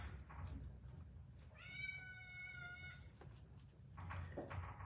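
A young cat gives one drawn-out, wavering meow in a quiet room with faint background noise, and a few soft rustles follow.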